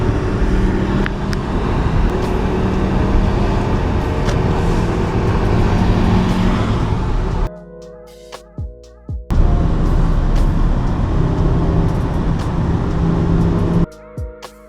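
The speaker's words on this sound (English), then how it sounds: "5-cylinder, guys, feel the power." A five-cylinder car engine runs with a loud, rumbling drone that continues steadily, cutting out abruptly twice into near silence before returning.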